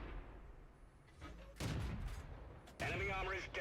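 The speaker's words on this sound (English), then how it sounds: "we'll fire a couple of blind shots" Tank cannon blind shots in World of Tanks: two heavy booming blasts, the second louder and longer, following a quieter stretch of game noise.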